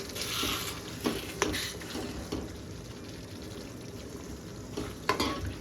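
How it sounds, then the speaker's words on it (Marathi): Chicken masala is stirred in a pan after a splash of hot water, giving a soft continuous sizzle with wet scraping strokes and a few sharper clinks of the spoon against the pan. "चांगलं मिक्स करून घेऊया."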